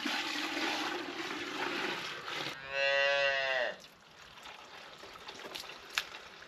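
Dairy cow that has just calved gives one loud, close moo lasting about a second, set against a steady rushing, trickling background noise that fades to quieter ambience afterward.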